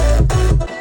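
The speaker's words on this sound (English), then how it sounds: "So if I have a kick that's really long and a bass that sounds like this," A long electronic kick drum layered with a sustained bass, dense low-end energy pulsing twice through a sidechain-style mix before cutting off abruptly near the end.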